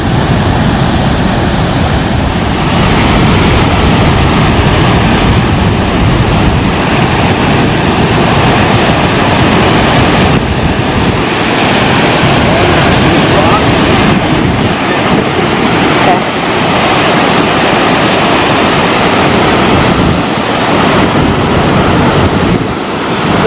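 Nugget Falls, a large waterfall near Mendenhall Glacier in Juneau, roaring as a dense, continuous broadband wash with wind buffeting the microphone.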